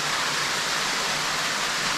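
Water from a stream flows inside a cave, giving a constant close hiss and rush of running water, even and unbroken, with no talking.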